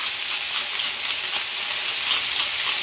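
Pieces of steak searing in a hot frying pan give a steady, loud, close sizzle with no break.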